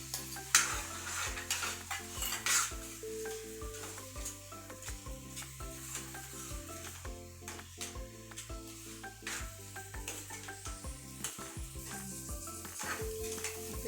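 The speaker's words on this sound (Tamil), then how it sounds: "மஷ்ரூம் நல்லா வதங்கிச்சு" Mushrooms for gravy sizzle in a pan with ground onion and tomato while a utensil stirs and scrapes against the metal, a steady frying hiss with scattered clinks.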